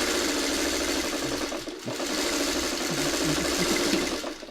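Sewing machine stitching fabric with the needle down while joining quilt pieces; a steady close mechanical whir runs throughout with a brief pause partway, no talking.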